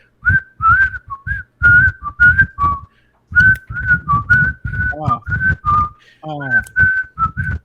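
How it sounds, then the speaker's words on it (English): A repetitive, chirpy electronic whistle tune from a video game, with short bouncy notes in a steady looping rhythm, bright and up close, with no talking. "this is whistling, like the actual sound effect"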